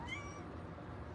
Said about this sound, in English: and that is a kitten, if you hear that in the background.